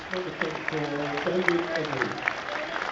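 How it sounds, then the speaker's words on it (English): Football crowd at an Ebbsfleet United home match applauding as a substitute comes on, a steady wash of clapping and cheering that runs throughout, with a commentator talking over it. "On 61 minutes, he gets a rapturous applause."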